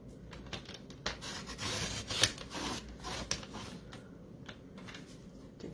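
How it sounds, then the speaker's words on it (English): Paper edges being trimmed with a cutter, close scratchy slicing and rubbing strokes in a run of short passes, moderately quiet with a steady background hiss. "So I'm just going to trim each edge."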